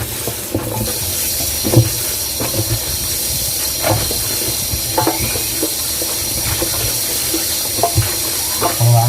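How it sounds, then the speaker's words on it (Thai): Pickled green onions rinsed under a running tap, a steady loud rush of water with occasional splashes and knocks in a kitchen sink. "โอเคเดี๋ยวต่อไปเราก็จะไปล้างน้ำเปล่านะครับ"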